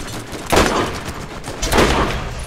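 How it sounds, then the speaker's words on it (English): Two heavy gunshot bursts boom in Borderlands, each a loud sharp blast trailing into a rumble, spaced about a second apart against a steady low game backdrop. "I'm gonna shoot him in the head."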